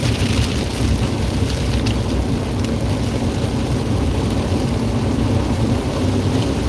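Heavy rain pours down steadily in a dense, loud hiss, with a deep low rumble underneath throughout.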